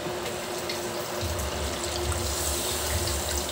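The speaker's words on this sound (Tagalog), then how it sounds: "maglagay po tayo ng kunting tubig" A little water poured into a pot of paksiw, milkfish with pork belly in vinegar, giving a steady close splashing, trickling wash that swells slightly midway and runs throughout with no talking.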